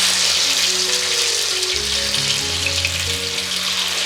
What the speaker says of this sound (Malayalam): ഇത് മീൻ വറക്കാനായിട്ട് പോവുകയാണേ